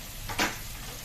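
Shahi jeera and chili powder frying in a pan for egg dum biryani give a short, soft sizzle that swells briefly and fades, heard close with no talk.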